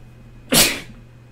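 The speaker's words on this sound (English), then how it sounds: "Sorry, I had to sneeze." A single sharp sneeze bursts out close to the microphone, loud and brief, fading quickly into a quiet room with no talking around it.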